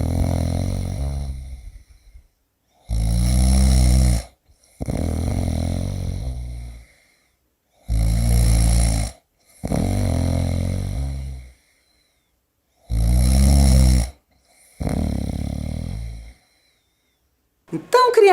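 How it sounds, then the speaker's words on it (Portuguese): A person snores loudly in repeated deep, rasping breaths, about seven snores with short silent pauses between them, heard alone without talk. "O personagem tá até babando de tanto que tá roncando"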